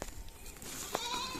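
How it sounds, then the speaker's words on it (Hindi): A goat bleats on a farm: a brief, wavering cry near the end of a short, faint stretch of outdoor background noise, with no talking. "तीनों बकरियों को नला लिया, एक बकरी रह गई है"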